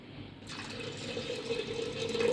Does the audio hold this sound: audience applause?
no